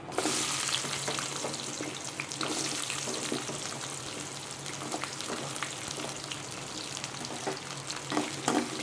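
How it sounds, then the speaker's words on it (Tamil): Sliced onions fry in hot oil with lightly browned lentils for tomato chutney, a steady bright sizzle with occasional crackles and stirring scrapes, close and continuous with no talking. "இந்த வெங்காயம் வந்து நல்லா வதங்கணும்"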